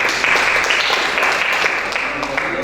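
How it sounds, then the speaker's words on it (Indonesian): An audience at a church gathering applauds in a short burst of steady, fairly loud clapping filling the whole moment. "Tepuk tangan buat Pak."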